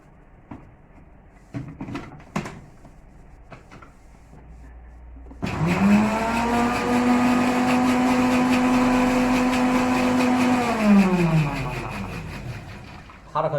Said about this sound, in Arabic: هنضرب الزيت لوحده.